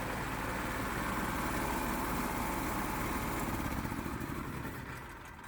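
A custom-built gasoline/electric hybrid vehicle with a custom throttle runs with a loud, steady, buzzing engine drone, close and unbroken, easing slightly in level toward the end.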